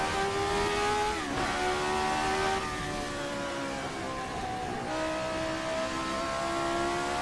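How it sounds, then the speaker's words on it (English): An RSS Formula 79 race car engine in a racing sim howls loudly and steadily, its pitch climbing through the revs with a sharp drop at each upshift. "It's such a great noise from that motor."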